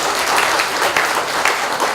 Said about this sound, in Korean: 일단 박수 한번 쳐드릴까요?